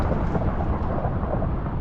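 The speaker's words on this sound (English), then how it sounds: "spawns lightning on the ground" Thunder from a lightning strike in Minecraft, a dense continuous rumble with crackling texture, loud and close throughout, with no voices.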